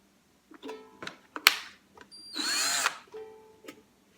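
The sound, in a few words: power drill running in reverse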